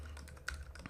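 Quiet keystrokes on a computer keyboard while code is typed in an editor, a short run of soft, irregular clicks with one slightly louder tap midway.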